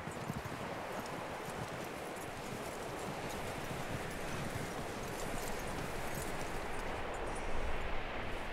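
Steady horse hooves clip-clopping at a walking pace in the video game Red Dead Redemption, close by and continuous, with faint rustling in the background and no talking.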